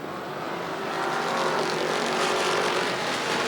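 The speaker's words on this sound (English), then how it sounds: "Coming around and out of number 2, it's going to be Trace Quigley, the 22Q, your leader" Race cars of the American Iron Racing Series exit turn two at a Fall Brawl feature, engines roaring loudly as the pack sweeps past, the drone swelling and holding steady.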